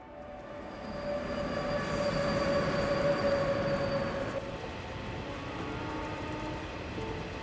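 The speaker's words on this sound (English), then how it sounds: "intimidated by the roar of the train" A train rolls steadily over a railway crossing built for wildlife, its loud sustained rumble joined by a long metallic wheel squeal that fades toward the end.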